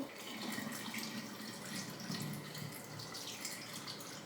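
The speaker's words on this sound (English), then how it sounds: "we are going to pour the kombucha on top" Kombucha poured over a concoction in a jar, a soft continuous trickling and gurgling stream of liquid, faint and close, running steadily without talk.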